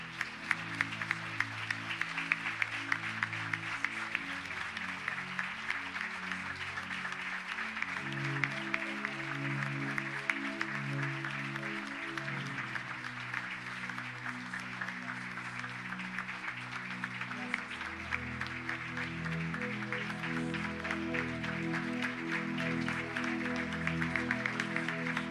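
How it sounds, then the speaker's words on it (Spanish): A church congregation claps together in a general service gathering, steady sustained applause that continues throughout under loud music with sustained chords, with no break in the clapping. "Dale un fuerte aplauso si así lo crees."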